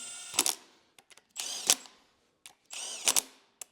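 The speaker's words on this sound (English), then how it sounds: "I'm going to run them up with this little Milwaukee gun" A small Milwaukee power gun runs down the head bolts on a Cummins 4B engine during a Case 1840 rebuild: three loud, close bursts of whirring and rattling, each lasting about half a second, with brief clicks between them.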